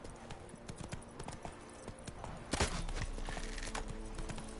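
Horse hooves clip-clop steadily in The Witcher 3, a regular trotting rhythm close by with a brief louder burst midway, under game ambience.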